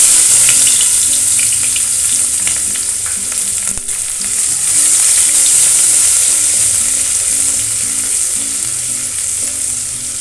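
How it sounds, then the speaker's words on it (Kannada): Onions sizzle in hot oil for a Kannada chicken chakolye dish, with a loud, continuous close-up frying hiss and light stirring. No talk is heard. "ಈರುಳ್ಳಿ ಹಾಕ್ತಾ ಇದ್ದೀನಿ."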